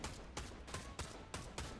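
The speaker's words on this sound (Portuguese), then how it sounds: "Quebra árvore, dando tiro na árvore." Gunfire aimed at a tree in the video game Fortnite: five sharp, evenly spaced shots, each a loud broadband burst over steady background game noise, with no talking.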